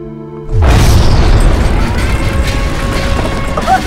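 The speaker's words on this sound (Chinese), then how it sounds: "又是空袭，好像是片场那边。" A heavy explosion from an air raid in a Republic-era Chinese television drama bursts in suddenly after quiet music, then settles into a long, loud rumble with scattered debris sounds.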